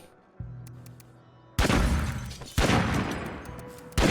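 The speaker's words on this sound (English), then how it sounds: "Flashbang." A flashbang grenade goes off in a zombie video game, giving a loud sudden blast followed by a ringing, noisy roar, with more heavy bursts after it.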